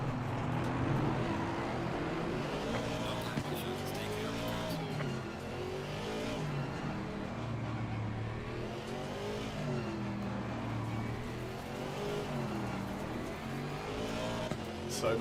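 An engine drones through the whole stretch in the racing game Assetto Corsa Competition, a British GT4 car at Brands Hatch, with a steady rising and falling pitch under some quiet background sound.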